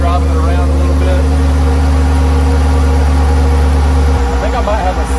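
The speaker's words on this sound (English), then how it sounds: "I think I might have a slight exhaust leak. I can hear a little bit of ticking." A truck engine idles close by with a steady low drone and a faint ticking from an exhaust leak at a front header bolt, the note dropping slightly near the end.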